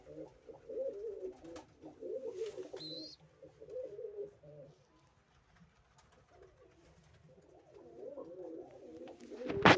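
Pigeons and their chicks coo in repeated low, throaty bursts close by, with brief pauses between phrases and a sharp flutter near the end.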